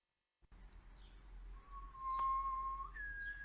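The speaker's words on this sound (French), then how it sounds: "C'est un étrange sifflement," Strange, tender, harmonious whistling rises alone after a moment of silence, a few sustained clear notes gliding upward and holding steady over a low hum.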